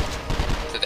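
A brief burst of weapon gunfire in 24: The Game, a quick cluster of rapid shots within under a second, loud and close.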